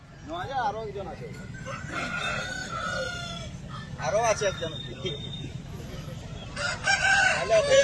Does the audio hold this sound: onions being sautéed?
no